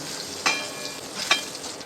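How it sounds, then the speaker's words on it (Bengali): Pointed gourd frying in oil in a lidded home pan, the last batch of slices: a steady soft sizzle with two brief brighter bursts of spatter or stirring, no voices. "ওটা লাস্ট ব্যাচ ভাজা হচ্ছে"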